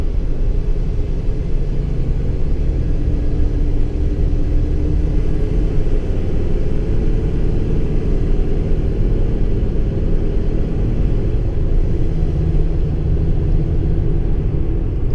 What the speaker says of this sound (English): just pulling out of that parking lot, I think it's cold, the engine fan's still on